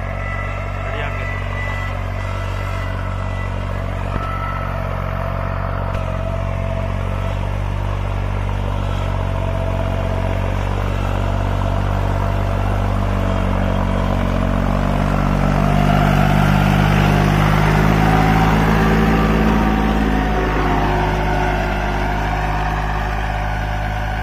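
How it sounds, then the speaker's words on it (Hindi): Continuous heavy engine rumble of a New Holland 3630 Super Plus tractor pulling a double harrow under load, steady and loud, with a rattling clatter and a swell in intensity partway through. "काफी अच्छा चल रहा ट्रैक्टर।"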